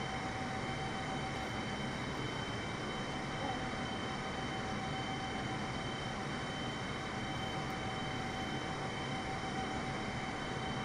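A jet airliner's engines drone steadily during the climb to cruise altitude in a flight simulator, a constant broadband roar with a faint steady tone, no voices, unchanging from start to end.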